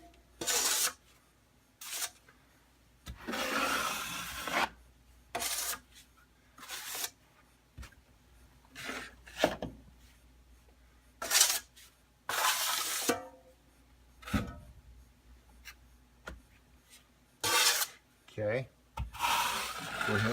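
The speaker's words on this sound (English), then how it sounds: "go ahead and go around on the outside just to start smoothing this mud out" A trowel spreads and smooths drywall mud over a large patched hole in a wall of a carpeted room, giving repeated broad scraping strokes in bursts, close by, with quiet pauses between passes and a brief spoken word.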